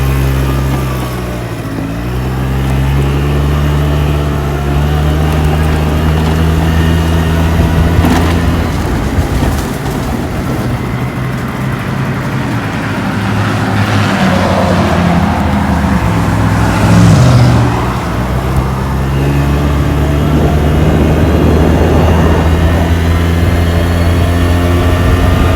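A Yamaha Vino scooter engine runs steadily throughout a ride, its buzzing drone rising and falling slightly with throttle, loud and close with wind noise and no talk.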